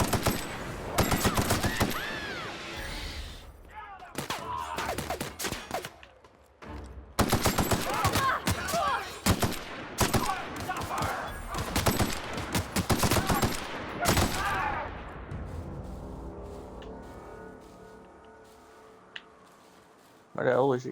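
Video game gunfire erupts in dense, loud automatic bursts separated by brief lulls and fades into quieter game ambience at the end, while a player talks over the shooting.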